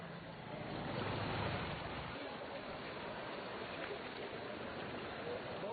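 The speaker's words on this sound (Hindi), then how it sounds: "सीतामढ़ी पुपरी सड़क पर 3 से 4 फीट पानी की तेज बहाव से जारी है।" Fast-flowing floodwater three to four feet deep rushes across the Sitamarhi–Pupri road, a steady, dense roar of moving water with some wind buffeting that continues unbroken and fairly close throughout.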